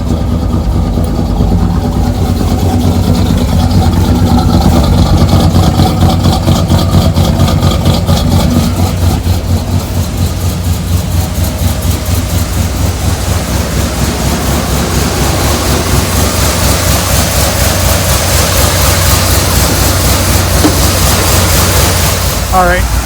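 GMC Jimmy K5 square-body truck engine idling steadily after starting, a continuous low rumble filling the whole stretch with a faint rise in revs, while someone talks over it nearby.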